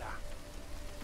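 Steady drizzle-season rain in the game Against the Storm makes a soft, even hiss that lasts the whole short stretch. It is faint and constant, with a voice speaking faintly over it.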